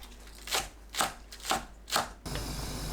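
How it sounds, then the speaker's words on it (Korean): A knife slicing green onion into rounds on a cutting board: four distinct close chops about half a second apart, followed by a quieter hiss. "파를 둥글게 썰어줍니다."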